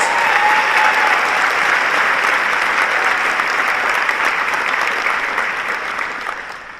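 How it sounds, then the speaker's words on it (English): Commencement audience applauding state champion students, sustained dense clapping filling a large hall, loud and even before gradually tapering off. "Let's give them a round of applause."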